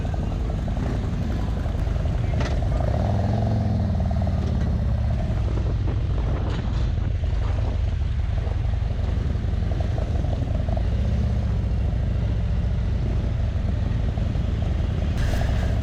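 Harley-Davidson motorcycles leave a dealership on a group ride, their engines producing a loud, continuous low rumble and drone with a rising roar early on.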